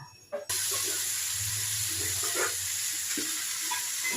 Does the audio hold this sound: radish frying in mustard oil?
yes